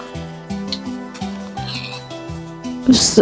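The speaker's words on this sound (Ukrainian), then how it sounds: "такі старі звуки, коли свиня помирає, якісь трошки страшненькі" A string of low, stepped, synthetic grunting tones like a cartoonish Minecraft pig dying, ending in a brief harsh burst.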